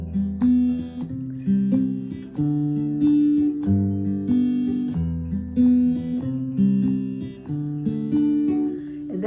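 A Furch acoustic guitar fingerpicks a tune, a steady repeating pattern of plucked bass notes and chords that rings out clearly and close, with no talking over it.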